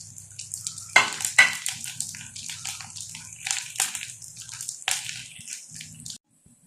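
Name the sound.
peanuts, nuts and lentils frying in oil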